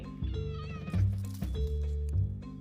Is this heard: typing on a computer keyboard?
no